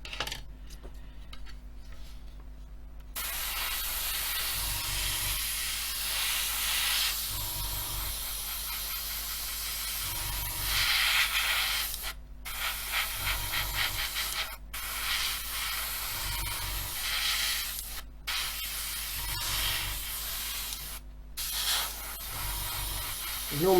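An airbrush sprays blue paint onto an Airfix 1/24 F6F-5 Hellcat model, a steady close hiss that runs for most of the time with brief cutoffs, over a low background hum.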